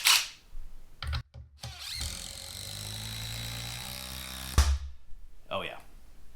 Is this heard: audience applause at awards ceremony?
no